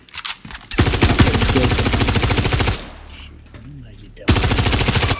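Rapid submachine-gun fire in the shooter game Star Citizen 3.23: loud, dense automatic bursts, one long stream, a brief pause with softer background, then another burst.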